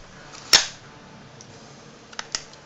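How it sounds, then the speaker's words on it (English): A VSR-10 airsoft sniper rifle bolt cycles with one sharp, loud metallic clack up close, then a quiet pause before a quick pair of lighter clicks and a final snap as the bolt is worked again. "I'm going to show you how easy this bolt cycles."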